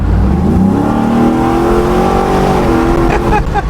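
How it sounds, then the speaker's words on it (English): A restored 1971 Ford Bronco with a 10-speed transmission accelerates up close, its engine rising in pitch through smooth gear shifts, loud and continuous. "The transmission shifts really smoothly"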